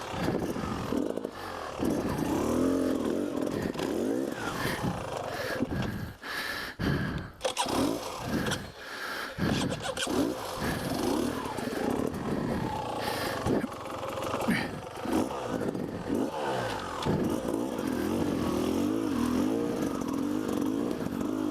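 A 2017–18 Beta Xtrainer dirt bike is ridden hard over rough off-road ground, its engine roaring loud and close almost without a break and revving up and down, with rattles and clatter from the terrain and brief dips in power.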